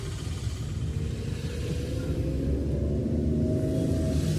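Maruti Alto VX car pulling away in first gear on half clutch, low engine rumble rising gradually as it accelerates, close and steady with no talk.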